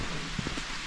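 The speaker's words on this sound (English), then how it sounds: "This is rain." Rain falling outdoors on a hiking trip, a soft, steady hiss with a few distinct drops pattering close by in a brief stretch.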